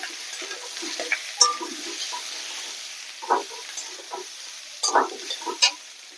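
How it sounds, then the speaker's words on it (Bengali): Cut potatoes fry in a pan with a low, quiet sizzle, punctuated by several sharp metallic scrapes and clinks of a spoon stirring them, close and intermittent. "আলুটা আগে নুন দিয়ে ভালো করে একটু ভেজে নেব।"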